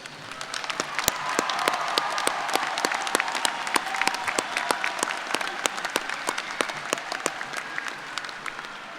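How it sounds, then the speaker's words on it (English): Graduates at a spring agriculture commencement ceremony receive sustained crowd applause, a dense wash of many hands clapping with sharp individual claps standing out, steady and fairly loud throughout. "Let's have a round of applause for all of our graduates."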